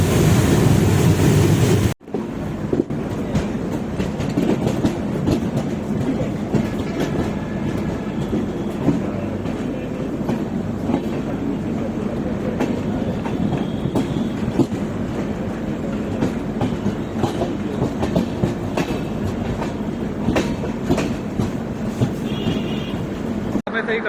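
12042 Shatabdi Express running near New Farakka over the Farakka dam bridge, a steady rumbling ride with rhythmic clickety-clack of wheels over rail joints, loud and close from inside the train, after a brief burst of louder noise at the start.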